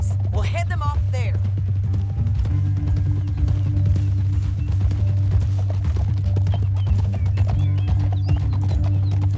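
In Red Dead Redemption 2, a horse's hooves clip-clop in a fast, steady rhythm over a continuous low rumble, with a brief whinny near the start.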